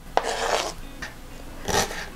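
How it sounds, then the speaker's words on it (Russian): A knife dices a lightly salted herring fillet on a board, giving a few soft, close scraping cuts in short bursts. "Филе слабосоленой селедки нарезаю мелким кубиком."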